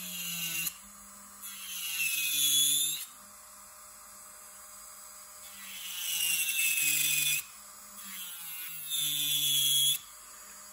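An electric nail drill files down a hard builder gel overlay on natural nails, with several loud, high whining bursts that rise and fall in pitch, separated by quieter pauses.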